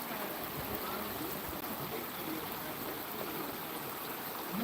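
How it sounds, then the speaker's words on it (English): Rushing water of a creek at a gold prospecting site in Georgia, a steady broadband roar filling the whole clip at constant loudness with no breaks. "It's hard to hear over the rushing water."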